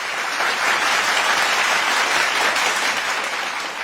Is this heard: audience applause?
yes